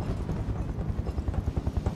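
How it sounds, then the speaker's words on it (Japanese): A helicopter in the video game Final Fantasy VII Remake flies nearby, its rotor beating in a steady low thump that grows more pronounced toward the end. "ヘリコプターが飛んでるよ"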